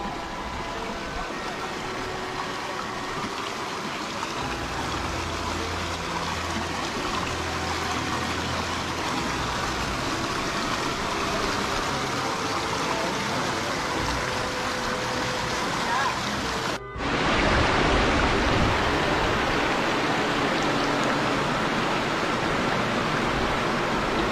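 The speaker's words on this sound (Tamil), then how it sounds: "ஆத்துல தண்ணீர் போயிட்டு இருக்கு அந்த சவுண்ட் கேக்குதான்னு பாருங்க" River water flows near Korakkar cave on the Sathuragiri pilgrimage route, a dense steady rushing wash that fills the whole clip, loud and close, with a brief dip partway through before it continues.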